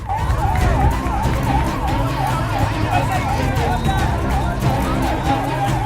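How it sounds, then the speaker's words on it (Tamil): Ambulance siren wailing in a steady rising and falling cycle at a roadside election campaign rally, loud and continuous over street noise and crowd murmur. "கொஞ்சம் வழி விடுங்க ஆம்புலன்ஸ் போறதுக்கு"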